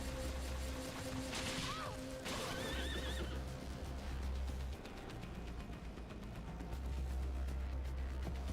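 A horse in a game under development gives a loud whinny early on, followed by clopping hooves and clattering thumps that continue at moderate distance.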